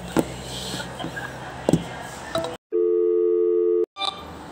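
Telephone connecting tone during a call transfer: one sustained, loud electronic tone sounds alone after a brief burst of line noise and clicks, then cuts off abruptly.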